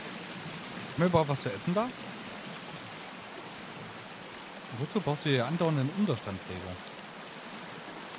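Steady rain hiss in the survival game Sons of the Forest runs evenly through the whole stretch, with two bursts of someone talking over it.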